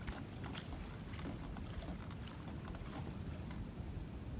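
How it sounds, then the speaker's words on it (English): Wind buffets steadily on a beach while sailing out in a sailboat, a continuous low rushing roar with gusty microphone noise and no voices. "There's some wind."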